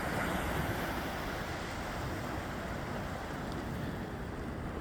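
Ocean surf rolling onto the shore at Staten Island, small waves producing a steady, dense wash of broadband noise with some wind rumble, continuous and fairly close, no voices.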